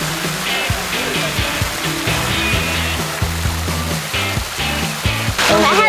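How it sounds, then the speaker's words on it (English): Rushing water from a waterfall fills the scene with steady broadband noise, while people talk loosely nearby over the constant roar. "Let's go see the waterfall"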